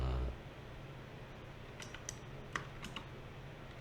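Soft keystrokes on a computer keyboard, a few scattered clicks and taps coming close but quiet over a faint background hum, with no voices.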